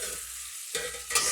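Onions and meat frying in a small amount of oil in a pan give a steady broadband sizzle with a brief stirring scrape near the end, close and unaccompanied by voices.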